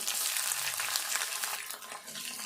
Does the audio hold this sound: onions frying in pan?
yes